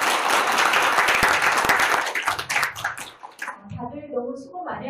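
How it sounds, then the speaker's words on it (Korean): Attendees at a legal debate forum applaud warmly for about two seconds, the dense clapping thinning out and fading as a speaker resumes talking. "우리 서로 모두에게 힘찬 박수를 먼저 보내드리겠습니다."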